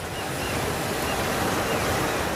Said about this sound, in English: We can hear the sea.